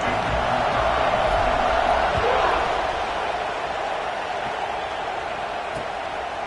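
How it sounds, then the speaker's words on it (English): A football stadium crowd at a Miami versus Michigan game buzzes after a score, a loud broad roar that swells briefly then settles into a sustained murmur. "this crowd is buzzing after that last score"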